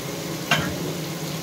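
Tomatoes and spices fry in oil for an Odia-style fish curry, giving a steady close sizzle with one brief clink of stirring partway through.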